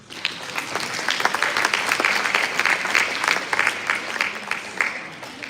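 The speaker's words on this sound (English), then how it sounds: "Give yourself a round of applause." Dense applause fills a school all-school assembly, steady and close, with crisp overlapping claps running the whole time and no voices over it.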